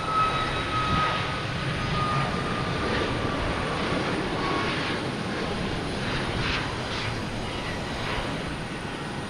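Jet engines of a Lufthansa Airbus A340-300 at Boston Logan Airport produce a loud, continuous roar with a faint high whine, steady throughout without talk.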